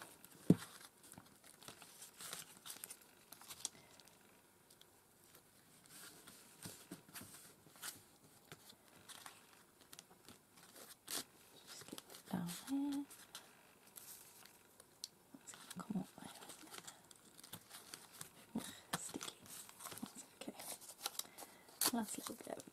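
Paper being crumpled and torn by hand, rustling and crinkling in bursts throughout at close range, with a voice talking quietly in between.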